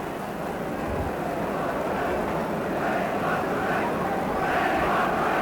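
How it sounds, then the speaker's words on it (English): Stadium crowd at the 1980 All-Ireland Senior Football Final between Kerry and Roscommon, a dense, steady roar of many voices chanting together, loud and continuous throughout with a slight swell near the end. "We want a ref is what the crowd are chanting now."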